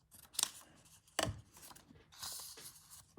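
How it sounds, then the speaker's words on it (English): Scissors snipping paper out of a junk journal page, a few crisp close cuts with sharp snaps and light rustling of paper in a quiet room. "So let's snip that out."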